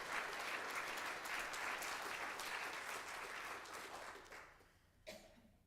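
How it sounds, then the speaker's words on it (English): A congregation claps at a 75th anniversary service of a Reform Jewish fellowship, steady, fairly distant applause that thins and fades toward the end, with a cough or brief noise near the close. "let's give it a round of applause for that"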